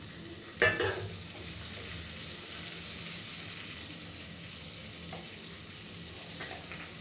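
Raisins and chili fry in a pan of hot oil for khichuri, giving a steady broadband sizzle throughout, with a brief louder sputter near the start and faint stirring clicks later.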